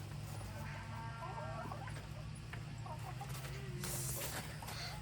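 Chickens cluck and murmur softly in the background over a steady low hum, with scattered rustling and a few brief sharper noises.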